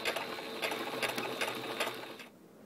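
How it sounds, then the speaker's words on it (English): A sewing machine stitches straight up and down a ribbon for a large cheer bow, a close, fast rhythmic whirring in short pulsing bursts that stops abruptly near the end, with no talking. "So that you can just sew right up and down it"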